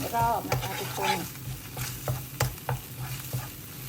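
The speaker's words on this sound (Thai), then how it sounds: "ให้กะทิของเราแห้งไปเลยนะคะ" Coconut milk for a Thai red curry with pork and Thai eggplant bubbles and sizzles steadily as it reduces in a pan, with a constant frying hiss and a few spoon scrapes against the pan.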